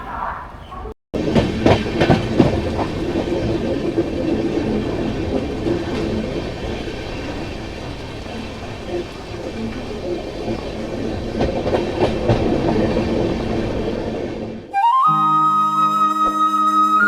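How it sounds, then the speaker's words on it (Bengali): A Howrah–Puri superfast express train runs along the rails after leaving Khurda Road Junction. A loud, steady rumble of wheels carries clickety-clack beats through most of the stretch, and a rising tonal whine enters near the end. "খুর্দা রোড জাংশন থেকে ছাড়ার পর আমাদের ট্রেন এখন এসে পৌঁছলো কানাস রোড"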